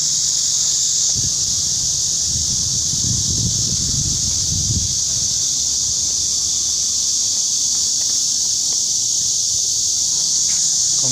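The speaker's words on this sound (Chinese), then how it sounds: "这个叫蝉的叫声啊" Cicadas shrilling outdoors beside a school wall, a constant high-pitched drone running the whole time, with faint rustling and low background noise beneath it.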